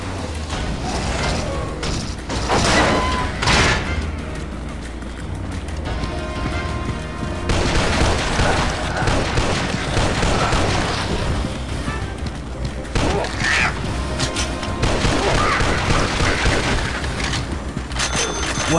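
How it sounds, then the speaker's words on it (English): Gunfire and mechanical weapon sounds in the zombie shooter game Dead Trigger 2, with dense bursts and booms running throughout under a constant layer of in-game music and effects. "Create a distraction with gunfire."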